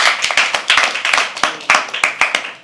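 Audience applause at a live poetry open mic comes as a small group's uneven, close claps, bursts of sharp hand strikes rising and fading over a few seconds.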